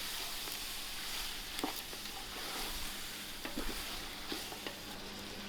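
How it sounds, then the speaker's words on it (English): Masala chicken sizzles and fries steadily in a pot over an outdoor wood fire, with occasional soft scraping and clinks as it is stirred, close and continuous with no talking. "And again, I'm going to give it a nice stir."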